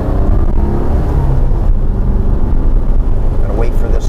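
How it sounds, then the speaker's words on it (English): A Porsche 914 accelerating on the road, heard from inside the car as a loud, steady engine rumble and drone that holds throughout with little change. "Again, I'm going to accelerate."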